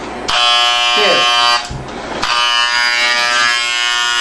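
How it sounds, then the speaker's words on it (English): Electric hair clippers buzz steadily and loudly up close as they shave a woman's head, their pitch dipping briefly as the blades bite into hair, then returning to a continuous whine. "I'm trying to shave her head."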